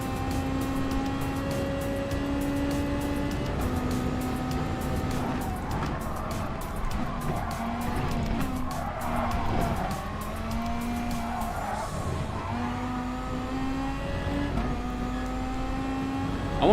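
A race car laps a track in Gran Turismo Sport, its engine droning steadily close up with shifting revs, tire squeal and skidding under a continuous loud roar.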